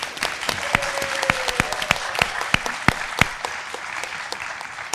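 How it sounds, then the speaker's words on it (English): An audience claps in a warm round of applause at an academic spotlight event, a dense steady patter of many hands in a hall that fades slightly toward the end. "Please join me in giving her a warm round of applause."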